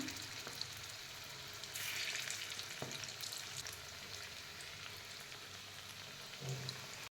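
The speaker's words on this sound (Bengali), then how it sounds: "মাছগুলোকে এইভাবে আমরা লাল লাল করে ভেজে নেব।" Fish fries in hot oil over medium heat with a constant, even sizzle and crackle, a brief louder spit now and then, and no voices.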